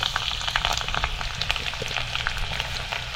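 Garlic dropped into hot oil already crackling with fried mustard seeds, a steady close sizzle and spatter with dense popping and no talking.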